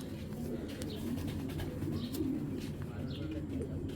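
Pigeons at a club coo in soft, repeated low calls, with occasional chirps over a steady background murmur, close by.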